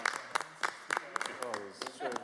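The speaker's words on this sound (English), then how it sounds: "Give them a nice round of applause." Scattered clapping rings out at the close of a city council meeting, separate sharp claps spread across the moment while a voice talks over them.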